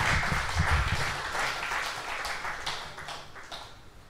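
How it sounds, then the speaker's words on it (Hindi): An audience claps in welcome for a longtime brother named Vikram at a gathering of Gyan Sarovar residents, a steady wash of many hands that is loud at first and gradually thins over about four seconds, with no talk over it. "हम सब ताली बजा के अभिनंदन तो करें।"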